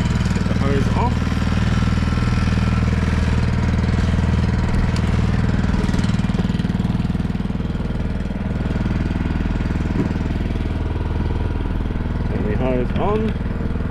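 A firefighting trailer pump engine drawing water from a pool runs at a loud, steady chugging idle close by, with a person talking briefly over it.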